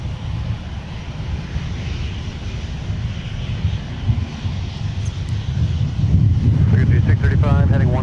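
Airliner jet engine roar at Minneapolis–Saint Paul airport, including Delta wide-body departures, a steady low rumble throughout that swells louder toward the end, with faint wind noise and a brief high whine near the close.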